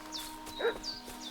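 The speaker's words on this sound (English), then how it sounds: "What's that dog making such a fuss about?" Dog barking somewhere in the Czech countryside of Kingdom Come Deliverance 2, a few faint, distant yips spread out under ambient game sound.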